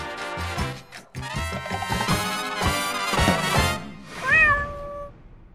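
A cat meows repeatedly in a rhythmic, almost chattering run of loud, close cries, ending with a longer drawn-out wail, with no talking.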